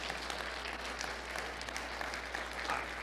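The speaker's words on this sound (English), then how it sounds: "Please be applauding yourself in that." Steady applause from a crowd, a dense even patter of clapping that holds at a moderate level throughout.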